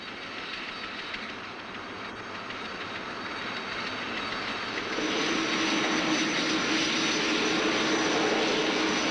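A Turboméca turboprop aircraft engine on a Pilatus plane drones steadily, its broad whine and roar building louder partway through, with no voices.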